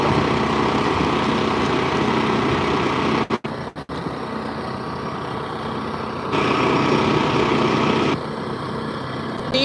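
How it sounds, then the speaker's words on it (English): A chainsaw engine drones steadily and loudly nearby, with a brief dip and stutter partway through before it revs back up. "Do you like running the chainsaw?"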